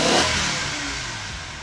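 A BMW M5 engine runs just after an ignition coil change, close and loud, a smooth mid-pitched drone that starts slightly stronger and settles evenly.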